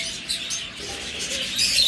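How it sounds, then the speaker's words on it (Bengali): Turquoise blue lovebird pair chirping, with bright high-pitched tweets scattered through a short stretch, close and moderately loud with no talk. "আর একটা চমৎকার জোড়া লাভ বার্ড, টারকোয়েস ব্লু"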